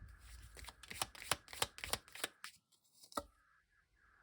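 Tarot-style cards are shuffled for a reading in a quick series of crisp riffling snaps and soft slaps, close and quiet, ending with a few lighter taps.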